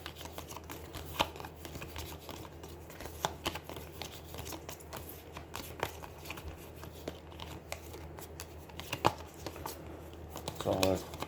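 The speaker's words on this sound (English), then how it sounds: "So I'm going to shuffle this extra." A deck of game cards for the Aeons End War Eternal deck-building game is shuffled on a table, with repeated crisp riffling and snapping bursts close to the mic across the stretch, and no talk.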